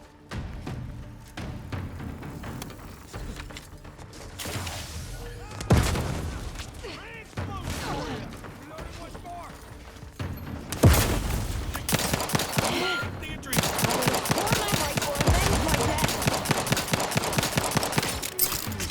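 Rift weapon fire in the video game The Outer Worlds 2, bursts of rapid gunfire and heavy booms that swell into a loud, sustained barrage, with a voice speaking over the early part.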